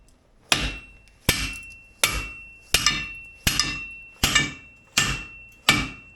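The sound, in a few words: hammering on a 2003 GMC Envoy part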